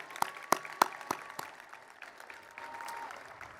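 Applause for honors graduates at a high school commencement ceremony, starting with a few loud, sharp individual claps before settling into a softer, thinner patter of clapping from a distant crowd.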